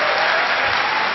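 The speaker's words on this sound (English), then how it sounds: "just one more round of applause for Josephine" A campus censorship panel audience gives Josephine a round of applause, a brief, dense, loud burst of many people clapping at once.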